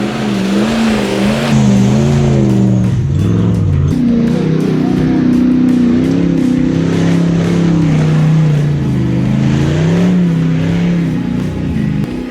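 A 4x4 Toyota 40 Series grinds up a wet, rocky high-country off-road track, its engine loud and near, revving and labouring in uneven surges as it climbs.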